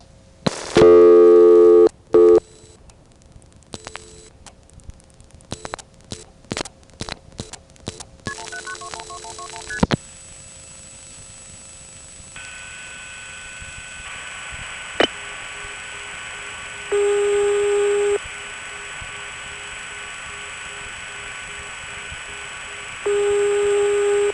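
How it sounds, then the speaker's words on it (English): Touch-tone dialing on a 1978–1980 coin phone in Greenville NC: a burst of rapid DTMF beeps, then a quick run of further tones, followed by steady electronic line tones and short repeating tone bursts, with no voices. "Let's try dialing 179 and then very quickly squeeze in 212-121"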